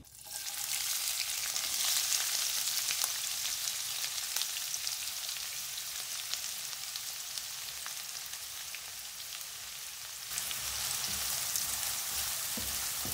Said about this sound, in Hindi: अब इसमें ये प्याज डालूंगी।